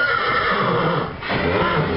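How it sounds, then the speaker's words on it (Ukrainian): A draft horse stallion whinnies close by, a long shaky neigh that dips briefly in the middle and then carries on. "вивели цього жеребця на двір Показати трохи"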